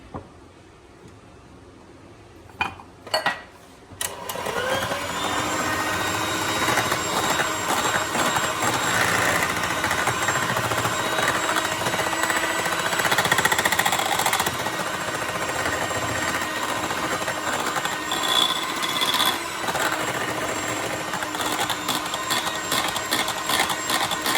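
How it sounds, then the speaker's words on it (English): An electric mixer beats marble cake batter and flour, a steady close motor whir that starts after a few clunks and runs on unbroken to the end, with no talking. "Just mix it up before you start beating it again"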